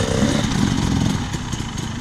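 Dirt bike engines rev at an outdoor riding session, a steady, loud, buzzing two-stroke drone with small surges in pitch and no break.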